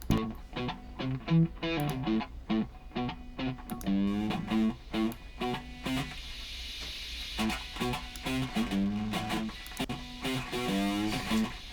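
Distorted electric guitar riffs played through a noise-reduction effect, carrying a constant layer of excessive hiss underneath the notes.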